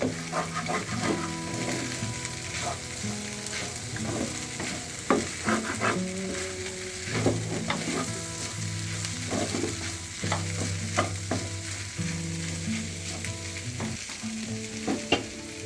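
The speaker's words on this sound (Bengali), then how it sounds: "কাটা পেঁয়াজ দিলাম কিছু। এখন এটা 5 থেকে 10 মিনিটের জন্য একটু ভাজতে হবে।" Chopped onions fry in a pan with steady stirring, spatula scrapes and clinks marking an uneven rhythm over a continuous close sizzle, with no talking.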